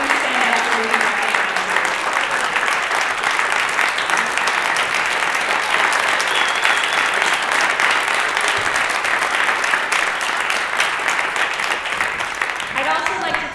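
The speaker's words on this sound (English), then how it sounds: "So please give them one more round of applause" A meeting audience applauds the board members at an annual meeting, a dense, steady roar of clapping that stays loud and even for the whole stretch and only thins at the very end.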